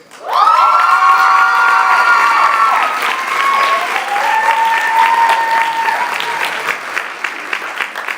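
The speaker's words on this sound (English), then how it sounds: "a special round of applause, please, to Miss Crane for all of her efforts" A crowd at a school honors ceremony bursts into loud applause with high-pitched cheers and whoops rising over dense clapping, the shouting easing while the clapping carries on strongly.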